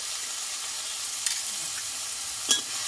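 A masala of tomato, turmeric and salt is stir-fried in a pan, giving a soft, continuous sizzle with a couple of light clicks from the stirring.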